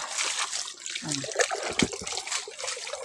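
Steady broadband rushing of flowing water, like a stream running over stones, continuous throughout with a brief voice-like murmur partway.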